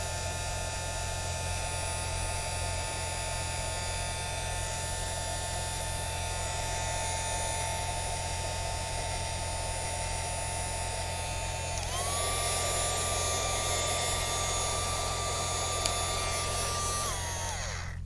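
A close, continuous drone of a heat gun melting gold marble embossing powder on a card. The motor hum and whine hold steady for most of the time, shift pitch briefly near the end, then stop.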